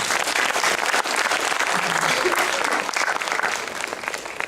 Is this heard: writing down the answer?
no